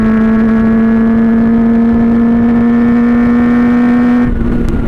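A Honda CB400 Four inline-four motorcycle engine accelerating, holding a loud steady high-pitched howl with a clear droning tone that rises slightly, then cuts off abruptly near the end.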